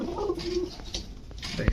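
Soft, low cooing from Giribaz pigeons close by, a short throaty burble followed by a brief bump at the end.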